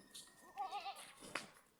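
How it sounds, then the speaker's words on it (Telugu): Goats and sheep in a park, with a short wavering bleat in the middle followed by a brief sharp call, faint and fairly distant. "ఇక్కడ షీప్స్, గోట్లు ఉన్నాయి"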